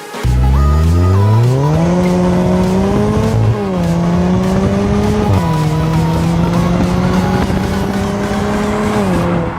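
A Jaguar XE accelerates through a tunnel, its engine note climbing steadily through the gears with brief dips at each shift. The drone is loud, close and continuous, with no voices.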